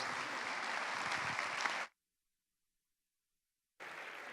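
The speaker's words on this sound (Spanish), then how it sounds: "Muchas gracias a todos los participantes y un aplauso para ellos." Audience applause for the participants of a panel on the right to health, a dense burst of clapping that cuts off abruptly into silence, then resumes just as strongly near the end.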